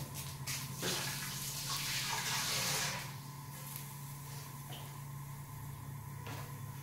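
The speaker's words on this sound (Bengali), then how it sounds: "হাতটা ধুয়ে নিই" Hands being rinsed under running water in a home kitchen, a soft splashing wash for a few seconds that fades into quieter handling sounds, faint overall, no voices.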